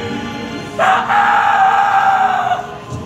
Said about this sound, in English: At that moment, the rooster crowed, and Peter remembered what Jesus had said.